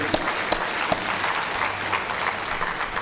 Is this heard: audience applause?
yes